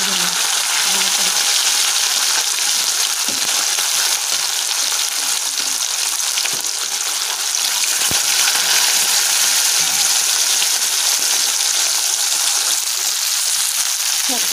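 Pona fish frying in hot oil in a kadai, a loud continuous sizzle and crackle that holds steady throughout, close by with no talking.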